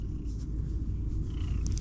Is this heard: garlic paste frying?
no